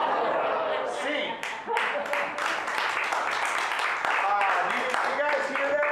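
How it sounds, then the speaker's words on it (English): An audience at a live evening show breaks into moderate applause mixed with scattered chuckles and laughter, and a voice speaks over the clapping at times. "That's not pity applause, but it's not like the full-blooded, wholehearted, loving it thing, right?"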